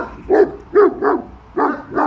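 A Malaklı dog barks five times in quick, uneven bursts, close and fairly loud, with short gaps between barks and no one talking.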